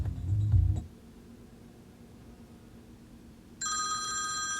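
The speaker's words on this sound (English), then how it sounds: "you're gonna hear the ring over the radio" Phone ringtone played through the radio of a 2005-2010 Honda Odyssey over a Bluetooth kit, starting after a brief low hum and near silence, then a steady electronic ring that carries on to the end.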